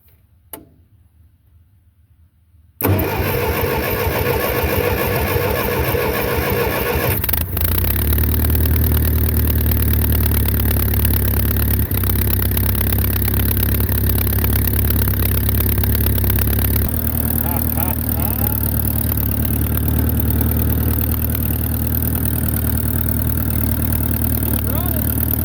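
A Ferguson TO30 tractor engine catches after a quiet start and runs loud and steady nearby, with a rough ticking idle that deepens when the throttle opens, then keeps droning with a slight change in tone.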